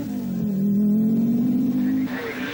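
An Opel Ascona rally car from the 1982 RAC Rally brakes late and swings around a hairpin. Its engine snarls loud and close, holding a rising tone, then cuts off sharply near the end as the revs drop.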